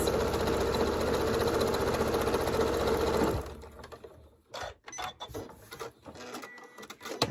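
A sewing machine runs steadily and loudly for about three seconds, stitching a quarter-inch seam on scrap quilt pieces, then stops abruptly, leaving only faint handling noises.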